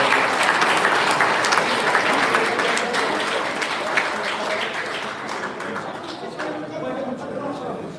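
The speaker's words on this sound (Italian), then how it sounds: "Ancora un bel applauso per tutti." Crowd applause rings out at an amateur Olympic-style boxing event in Verona, dense and sustained clapping that fills the hall, slowly thinning toward the end while voices carry over it.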